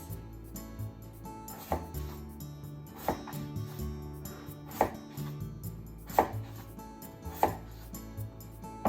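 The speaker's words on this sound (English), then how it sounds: "Then cut them into 1 finger thick slices." A knife slicing daikon radish into thick slices on a cutting board, producing a series of distinct thuds about every second and a half, close and clear, with no talking.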